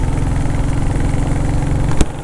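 A Royal Enfield Classic 350 single-cylinder motorcycle engine idling close by, a steady low throbbing rumble held at an even level for the whole stretch, with a brief sharper blip near the end and no talk.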